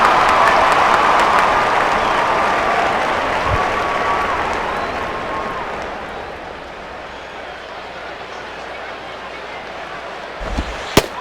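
Baseball stadium crowd in MLB 09: The Show, Marlins at Braves in Atlanta, a loud sustained roar and cheer after a foul ball that gradually fades over several seconds, with a couple of sharp knocks near the end and a commentator talking over it.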